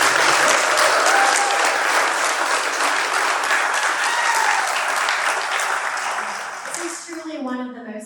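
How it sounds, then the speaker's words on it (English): Loud, dense audience applause at an art museum exhibition opening night, sustained close clapping that fills the room and then tapers as a speaker's voice returns at the end. "let's give another round of applause"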